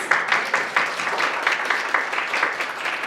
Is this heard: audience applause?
yes